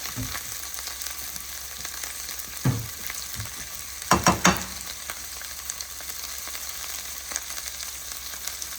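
Food fries in a pan with a constant close sizzling hiss, broken by a few scraping stirs and clinks around the middle, with no voices.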